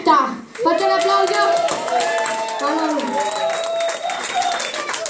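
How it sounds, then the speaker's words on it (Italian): An audience at a children's recital claps along amid overlapping voices and music, moderately loud and continuous, with a voice and other talk mixed in. "Morretta, fate un applauso."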